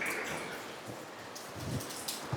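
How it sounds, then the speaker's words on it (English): Steady patter of water drops and trickling inside Marble Arch Caves, like rain falling onto wet rock, fairly close and continuous with a few louder drips. "Sounds like it's raining."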